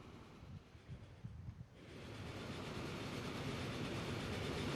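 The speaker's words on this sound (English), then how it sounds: "passenger train going the other way" A passenger train in the video game Transport Fever 2 rolls past, its rumble swelling from quiet into a steady, broad roar that holds to the end, with no talking.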